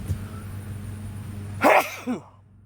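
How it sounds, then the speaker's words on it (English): One sharp, loud sneeze close by over a low background hum of lawn mowing nearby, followed by a short breathy sound. "I'm going to sneeze"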